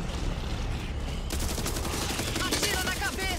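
Gunfire in the Back 4 Blood video game, rapid automatic shots crackling in dense bursts, growing louder and busier partway through, under a layer of game noise.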